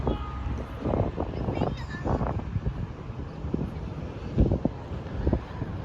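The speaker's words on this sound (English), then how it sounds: "It's quite windy today." Low rumbling wind buffeting the microphone at a plane spotting site, steady and muffled, with faint voices underneath.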